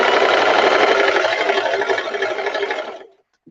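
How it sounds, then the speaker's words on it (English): A sewing machine stitches a skirt panel from selvage to selvage, a fast steady mechanical whir running loud and close for about three seconds before stopping abruptly, followed by a tiny click. "I'm sewing from one selvage to the other selvage"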